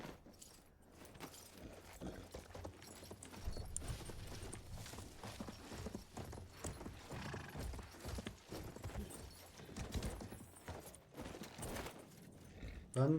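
Horse hooves clip-clop at a steady walking rhythm in the World War I shooter Battlefield 1, a faint, even patter of hoof strikes running through the whole stretch with light background game noise.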